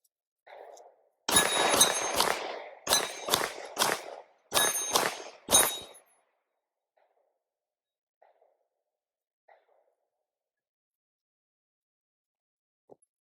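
Frangible Fenix ammunition fired as a full magazine outdoors: about seven loud, sharp gunshots in an irregular cluster over four seconds, each with a short ringing tail, followed by quiet with faint distant clicks.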